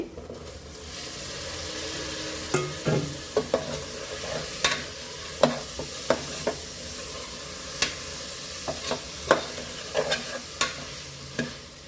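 Vegetables fry with garam masala, ground coriander and cumin in a pan for spiced khichdi, giving a steady sizzle broken by repeated sharp clinks and scrapes of a spoon stirring against the pan, close by with no talk.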